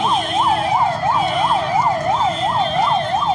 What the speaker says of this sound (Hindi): देखिए ये एम्बुलेंस को पार किया जा रहा है।